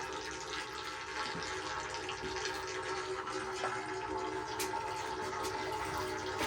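Water draining out of a spring house, a steady rushing wash that stays even and fairly faint throughout, with no voices.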